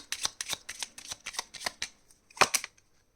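A deck of tarot cards is riffled and shuffled in quick crisp bursts, about a dozen sharp flutters in steady rhythm, then a pause and one final louder riffle, close and quiet with no talk.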